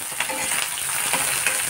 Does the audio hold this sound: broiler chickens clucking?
no